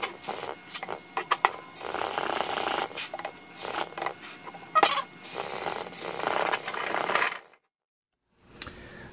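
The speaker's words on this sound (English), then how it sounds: "I sanded that." A red drum shell is hand-sanded during restoration in a drum shop. The sanding makes close, loud, raspy strokes in a rhythmic back-and-forth pattern with brief pauses, ending in sudden silence and one last faint scrape.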